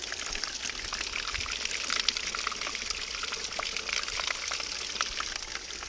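Outdoors, water pours and flows in a continuous, close hissing rush with small splashy pulses throughout and no one speaking.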